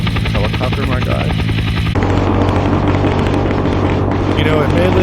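Helicopter rotor chop from a VRChat Dirt Rally world in a snowy setting, a loud steady drone throughout with a shift in tone partway through and voices talking over it.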